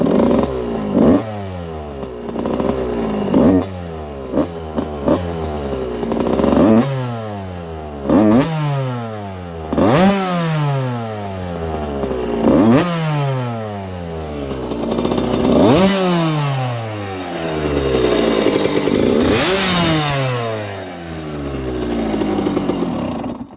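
A 1994 Suzuki RM125 two-stroke dirt bike engine, already warm, revs repeatedly in sharp rising bursts that fall back to a crackling idle, loud and close with no talking.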